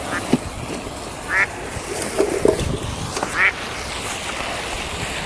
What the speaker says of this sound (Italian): Le anatre pensano, sì, no, non sono venute da mangiare.